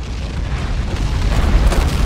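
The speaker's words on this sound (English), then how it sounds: "It's gonna explode right there." Explosion on the battlefield at Crait in a Star Wars video game, with Stormtroopers assaulting rebel defenses and tanks behind a barrier: a steady, loud, low rumbling boom that swells toward the end, with no talk.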